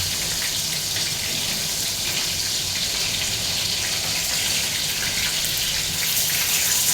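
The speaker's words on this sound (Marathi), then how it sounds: "आणि फक्त शिजण्यापुरतं 1च ग्लास आपल्याला पाणी टाकायचं आहे." Water poured from a glass into a cooking pot over spluttering cumin and mustard seeds, a steady broadband rush and splash lasting several seconds at close range with no talking.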